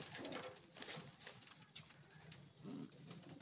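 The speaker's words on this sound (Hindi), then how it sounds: "ये रहे दोनों कबूतर" Soft, low cooing from two pigeons in a small cage murmurs in short swells, fairly close, with faint rustling and background hiss around them.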